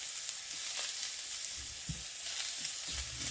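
Golden oyster mushrooms fry in a skillet with a steady, quiet sizzle and a few soft pops and taps, heard close with no talking.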